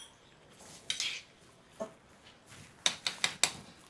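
A metal spoon clinks and scrapes against a pan while tamarind-jaggery poha is mixed: a few scattered taps, then a quick cluster of four sharp clanks, all close and clear.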